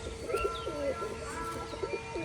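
Bali pigeons coo at a Rajshahi pigeon sale, soft repeated low calls close by over steady background hum, with faint chirps from other birds nearby.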